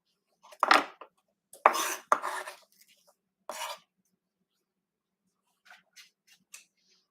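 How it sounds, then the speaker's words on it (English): Vegetables being chopped with a knife for a plant-based breakfast potato hash: a few sharp, close cuts in an uneven cluster, a pause, then several fainter, lighter taps, with no voices. "I'm going to finish chopping the rest of the veggies that are going to go inside."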